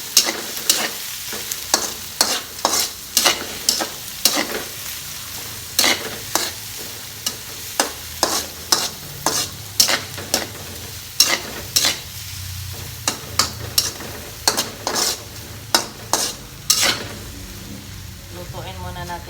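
A sauce with a chicken broth cube frying in a pan, with steady sizzling under a long run of quick, regular scraping stirs of a utensil against the pan, close and fairly loud, with no talking.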